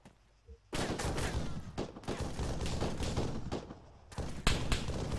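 Bursts of automatic and rapid gunfire in the military shooter Arma 3, loud cracking volleys in quick clusters with brief gaps between them, close and dominant.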